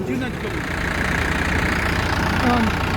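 A tractor engine idles with a steady low, throbbing rumble throughout, and voices faintly underneath.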